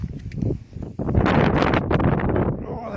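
Gusty outdoor wind roars and buffets the microphone beside a river under a 750-year-old bridge, rising into a loud, steady rush after a brief lull.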